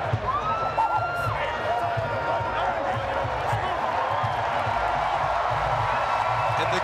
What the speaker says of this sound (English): The crowd applauding that game effort of Johann Duhaupas